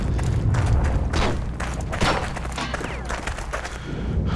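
Gunfire in Heroes and Generals, a World War II multiplayer shooter, sounds as a dense battle backdrop of distant shots and thuds over several seconds, with no single shot standing out clearly.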